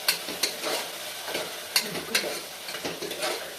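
Masala being stirred in hot oil for Gujarati-style batata poha, with a soft steady sizzle and repeated scraping strokes of a spoon against the pan at an irregular rhythm, close and moderately quiet.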